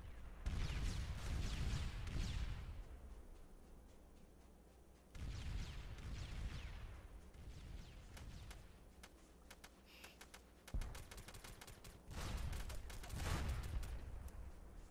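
Bursts of gunfire from the tactical shooter game SOCOM 2 come in three dense clusters with quieter gaps between, some shots aimed at a turret, the overall level fairly low.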